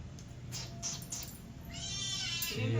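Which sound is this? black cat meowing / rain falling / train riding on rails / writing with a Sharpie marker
black cat meowing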